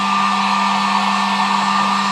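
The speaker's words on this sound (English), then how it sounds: "I have a heat gun." A heat gun on its low setting blows steadily while warming a tire foam insert, a constant whirring fan hum and airy hiss with no breaks and no voices.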